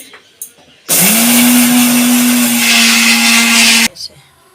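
A kitchen mixer grinder pureeing potatoes into a paste whirs loudly and steadily for about three seconds, starting and stopping abruptly, with quiet talk before and after.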